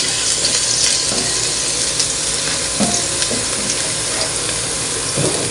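Garlic sizzles loudly in hot cooking oil, a constant close frying hiss with occasional stirring scrapes, no voices heard.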